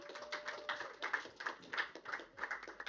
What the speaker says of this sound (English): Snaps and claps for Jon.